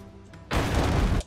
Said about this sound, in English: Mortar shot again here.